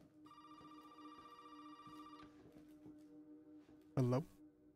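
A telephone rings in Resident Evil 7, its tone holding steady for about two seconds against a low ambient drone, followed later by a short loud burst.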